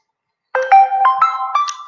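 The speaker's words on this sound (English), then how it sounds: "I'm getting a phone call here right now" A phone rings with an incoming call, a short, loud electronic ringtone of repeated melodic tones that starts abruptly and plays on alone.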